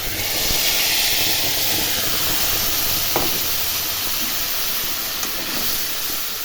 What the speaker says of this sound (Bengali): তেলটা গরম হয়ে গেছে এখন এই মশলাটা দিয়ে দেবো